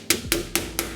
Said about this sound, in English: we're just gonna start pounding it out, but just make sure you're not hitting it super hard